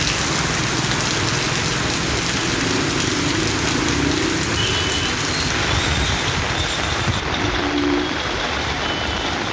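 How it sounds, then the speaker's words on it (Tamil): Heavy rain pours steadily in a town during a downpour, a dense continuous hiss filling the whole stretch, with faint traffic rumble and brief beeps in the background. "பரவலாக கனமழை கொட்டி தீர்த்தது"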